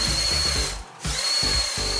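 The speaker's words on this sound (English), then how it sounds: "First up, we have the Crusher machine, equipped with a front lined with sharp gears, almost like a powerful drill" A LEGO crusher vehicle with a front of sharp rotating gears grinds loudly against a single-layer paper wall, a buzzing drill-like whir that briefly drops out and then resumes in uneven bursts.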